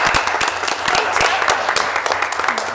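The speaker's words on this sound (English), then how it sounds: "So I think we should give Luca a round of applause." Applause for a student named Luca at a school district budget meeting, loud close clapping from a room of people with a few louder individual claps and faint voices mixed in.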